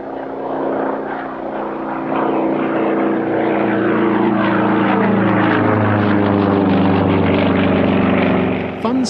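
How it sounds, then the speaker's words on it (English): A Sukhoi Su-31 aerobatic propeller plane flies a civilian display at a Russian air show, its engine droning loudly and continuously with a rising, sweeping pitch as it passes close by. "The first of the civilian aerobatic displays is by a DOS-AAF Sukhoi"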